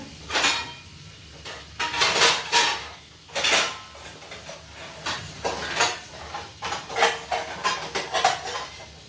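A tea pot clinks and clatters on a kitchen counter while tea is being made, in irregular bursts of metallic knocks and scrapes, some close and sharp, with short pauses between.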